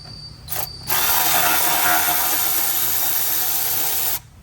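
Working on a Can-Am X3 intercooler install, a ratchet with a 10 mm socket gives a few quick clicks and then one long, steady stretch of close, rapid ratcheting.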